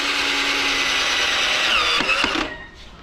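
Electric screwdriver with a magnetic bit driving short screws into a homemade budget bed frame, a steady, close whirring that runs for about two seconds and then stops.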